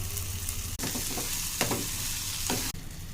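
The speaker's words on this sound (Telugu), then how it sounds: "ఇప్పుడు పన్నీర్ ముక్కలు వేపుకుందాం." Paneer pieces fry in two spoons of ghee with cumin and coriander powder, a steady close sizzle broken by a few spatula scrapes and short clatters, with two brief cuts in the sound.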